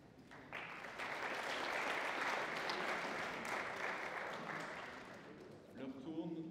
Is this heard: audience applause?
yes